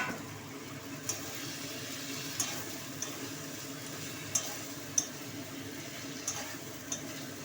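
Cauliflower florets frying in spices in a pan, a steady soft sizzle with occasional light clicks and taps of utensils against the pot, fairly close and without speech.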